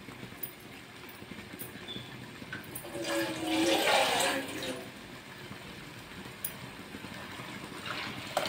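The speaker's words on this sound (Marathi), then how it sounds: "आपण अजून याच्यात पाणी घालत आहोत." Water is poured into a pot of simmering amti made with soaked red chilies, a gushing splash swelling for about two seconds amid quiet kitchen noise and faint stirring clicks.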